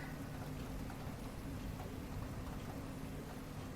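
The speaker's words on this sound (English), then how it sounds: "Yep, still raining." Steady rain falls on the manor grounds in the video game Murder Most Misfortunate, a soft, even hiss of raindrops that carries on unbroken throughout.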